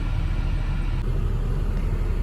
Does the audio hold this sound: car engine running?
yes